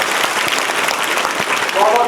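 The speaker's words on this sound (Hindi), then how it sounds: "उनका स्वागत जोरदार तालियों से किया जाए।" Loud, energetic applause from a crowd fills the space, a thick, steady wash of clapping with some voices underneath.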